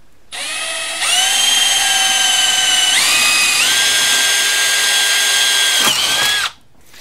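Drilling holes in a synthesizer chassis with a power drill: a loud, close, continuous high whine that steps up in speed a few times, runs for about six seconds, then spins down abruptly. Nobody speaks.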